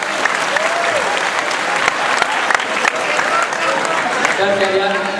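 An audience at an Islamic boarding school's anniversary and graduation ceremony gives sustained applause, a dense, even wash of clapping with a voice talking over it near the end.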